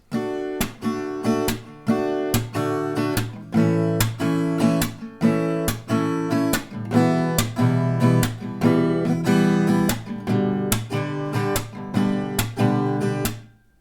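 An acoustic guitar strums chords in a steady rhythmic pattern, with sharp percussive accents, loud and close, playing alone.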